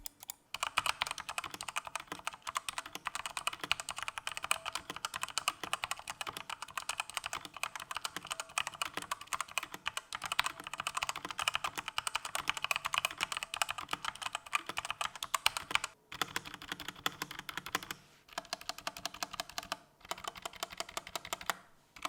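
Steady, fast typing on a Redragon K630 mechanical keyboard with a hollow case, unlubed switches and stabilizers and cheap keycaps, producing dense clacky keystrokes close up, with a couple of brief pauses near the end.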